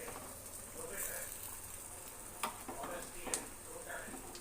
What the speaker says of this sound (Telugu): ఇలా చిన్నగా నూనెలో వదులుకోవాలి. ఇలా అన్ని గారెలు వేసుకున్నామండి.